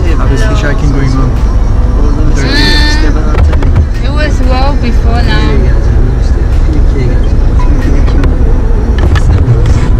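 The cabin of a car picked up while hitchhiking near Kaş, Antalya, with a steady engine and road drone throughout as several people chat loudly over it.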